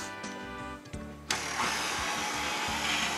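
Electric stand mixer beating cinnamon coffee cake batter, a few short motor surges giving way to a steady buzzing whir that keeps running close by.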